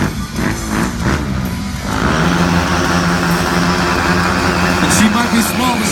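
A BMW S1000RR stunt motorcycle engine drones loud and steady at an outdoor stunt show, its pitch holding through clutch work, beneath crowd noise and a commentator talking over a PA.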